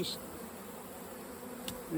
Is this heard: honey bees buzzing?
yes